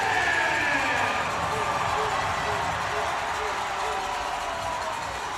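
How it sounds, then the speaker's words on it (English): A crowd at an ice hockey game at McMorran Place roars steadily and loudly throughout, with a commentator's voice running over it. "And Brian Parsons getting the crowd going here."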